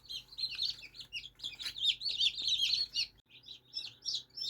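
A cluster of newly hatched chicks cheep constantly, high and shrill, many overlapping peeps close by with a faint hum underneath.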